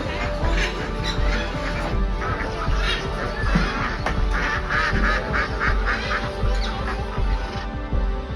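Ducks quack in a rapid, repeated series at a bird park in Hyderabad, close and fairly loud, with other birds calling and a murmur of voices in the background.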